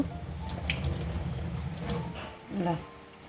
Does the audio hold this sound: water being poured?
yes